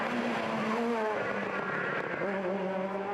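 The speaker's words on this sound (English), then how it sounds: "Grabs the handbrake and turns the car sideways round one of the, goodness knows how many hairpin bends here in the Alps." A rally car slides sideways round a hairpin bend in the Alps under the handbrake, its engine a loud, steady, close roar with shifting pitch as the car pivots, and a light tyre scrub beneath.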